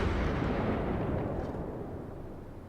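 Naval gunfire from the cruiser Königsberg in the game World of Warships: a heavy, booming salvo that rolls into a long, gradually fading rumble filling the whole clip.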